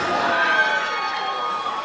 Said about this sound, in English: And you people back here, you ready to cheer?